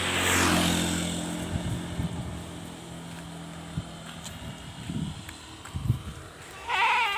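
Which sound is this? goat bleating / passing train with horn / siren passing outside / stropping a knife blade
goat bleating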